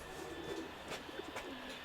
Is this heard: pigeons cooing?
yes